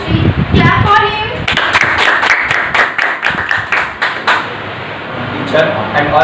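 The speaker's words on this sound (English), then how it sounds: "Clap for him." Students clap for a classmate at an Independence Day school celebration, loud close claps in an uneven burst that thins out and fades, with voices heard at the start and end.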